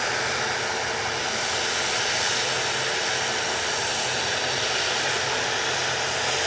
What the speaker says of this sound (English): It's a Cessna